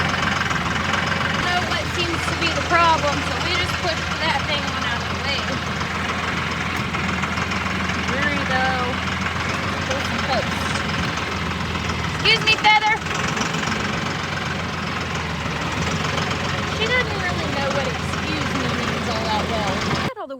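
A tractor engine idles steadily on a farm pasture, a continuous low rumble with a slight knocking rhythm, with people talking over it and a few brief clanks midway.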